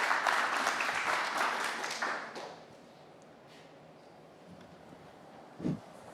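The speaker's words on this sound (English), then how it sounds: "Big round of applause" A conference audience bursts into a round of applause, dense clapping for about two seconds that fades into quiet room tone, with a single faint thump near the end.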